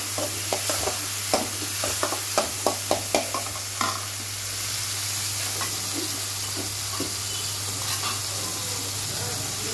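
Finely chopped tomato sizzles in a pan while a spoon scrapes and clacks rapidly at first, then settles into a steady, close frying hiss.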